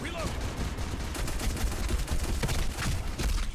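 Gunfire in the Black Squad shooter game, with pistol shots among several sharp reports in quick irregular succession over a busy battle background, with some talk mixed in.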